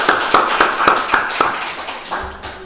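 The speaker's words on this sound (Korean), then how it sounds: "크게 한번 박수 한번 주십시오." Audience at a history lecture in Jeonju clapping in a steady, even rhythm of sharp hand claps, close and fairly loud, fading toward the end.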